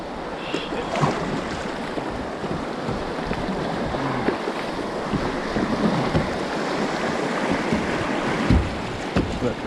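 A small boat runs river rapids while fishing, with continuous rushing, splashing water and wind buffeting the microphone throughout, punctuated by occasional knocks.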